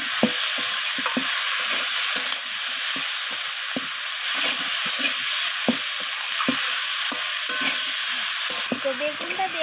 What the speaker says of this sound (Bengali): বেগুনটা দেওয়ার পর আমি আবারও সব কিছুর সাথে এইভাবে কষিয়ে নিচ্ছি